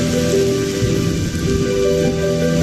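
Heavy rain in a Honkai: Star Rail cutscene set in Penacony, a dense steady downpour pattering loudly with low rumbling underneath and tonal game music layered over it.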